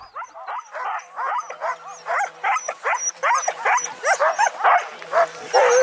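Excited sled huskies bark and yip repeatedly in quick, overlapping bursts, some whining, loud and close in a quiet outdoor setting, the chorus rising toward the end.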